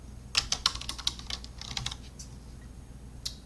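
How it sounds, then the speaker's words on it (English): Typing on a computer keyboard while entering button text for a Facebook ad design in Canva, a quick run of light clicky keystrokes in the first two seconds, then a few scattered taps, close and fairly quiet. "I'm going to type in learn more."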